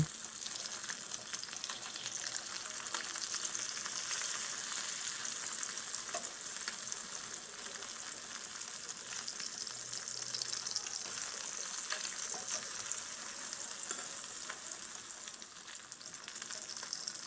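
Rohu fish pieces frying in oil in a kadai: a loud, continuous sizzle close by that holds steady for the whole stretch, with faint stirring and no voices.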